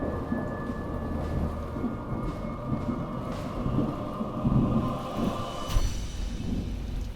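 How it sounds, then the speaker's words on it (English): A thunderstorm over a city: steady rain with low rumbling thunder rolling underneath, a sharper crack near the end, continuous and moderately loud without voices. "a storm rolled through the city, and the lightning flashed and the thunder followed"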